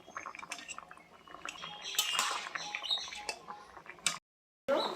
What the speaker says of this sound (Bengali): এইভাবে আমি সব আমগুলো এইভাবে থেতো করে নেব